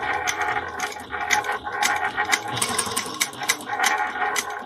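A sewing machine top stitches a handbag seam, a steady fast mechanical whirring and clatter with rhythmic rattling pulses, close and alone.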